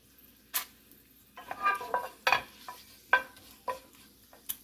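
Cut kelp pieces fry in oil in a pan on a gas stove with soft sizzling. Intermittent scraping and clinking from stirring utensils against the pan break in at irregular intervals.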